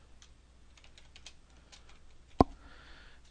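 Quick, light keystrokes on a computer keyboard as a template name is typed in PCB design software, a short soft patter of taps ending in one sharp louder click, close and quiet.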